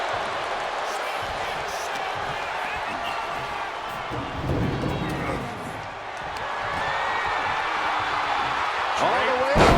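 Wrestling crowd in a WWE video game cheering and roaring steadily throughout, a dense broad wash of arena noise that swells midway and again toward the end, with occasional thuds and sharp impacts within it.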